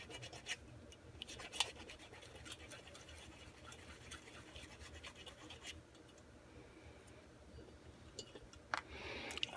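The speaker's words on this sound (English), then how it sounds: "I have to sand over the top of these valves openings or it won't" Abrasive scraping and rubbing as the valve openings on a 74-year-old miniature steam engine are sanded, a steady close-up rasp with a few louder scratches and a brief burst near the end, no talking.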